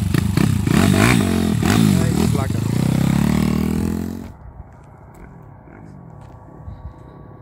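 A Takegawa 57mm-engined GLX motorcycle with its exhaust revs hard and loud up close for about four seconds, the pitch climbing, then drops to a low idle with light clatter.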